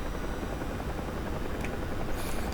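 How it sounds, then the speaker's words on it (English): Helicopter in the DCS World flight simulator over the Caucasus/Black Sea map, a steady, loud rotor and turbine drone that runs unbroken with no talk. "Just takes forever to get moving in a helicopter."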